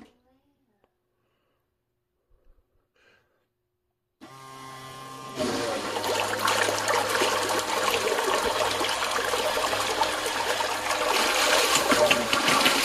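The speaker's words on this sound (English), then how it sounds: "As soon as the pump feels no more water, it will stop." A Seaflo 14A low-profile, water-sensing 1100 GPH bilge pump starts after near silence with a sudden loud, steady whir and gush of pumped water that keeps running strongly, close by.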